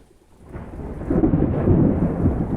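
A low rumble of thunder swells and rolls on, deep and fairly close, with the patter of rain beneath it during a storm.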